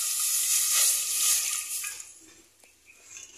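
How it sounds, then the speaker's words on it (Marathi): Milk is poured into a pot on a wood-fired stove while making basundi, a hissing, sizzling splash that is loud at first, then thins out and fades to soft crackles. "आता याच्यामध्ये आपण दूध टाकूयात।"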